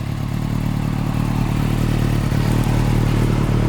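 A 2016 Kawasaki ZX6R motorcycle engine idles nearby after an oil change, with a steady, rumbling drone and light mechanical clatter, running evenly without revving.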